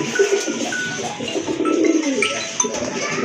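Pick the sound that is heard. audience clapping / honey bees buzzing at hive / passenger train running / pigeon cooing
pigeon cooing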